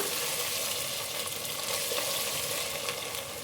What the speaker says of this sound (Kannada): ಸ್ಮೆಲ್ ಹೋಗೋವರೆಗೂ ಸ್ವಲ್ಪ ಫ್ರೈ ಮಾಡಿಕೊಂಡು ನೆಕ್ಸ್ಟ್ ಟೊಮೊಟೊ ಹಾಕ್ಕೊಳ್ಳೋಣ